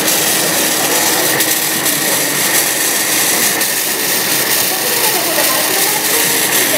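An automatic excretion-care robot for bedridden elderly patients flushes miso out of a cup with water. A loud, steady rushing hiss runs unbroken for several seconds, close by, with no speech over it.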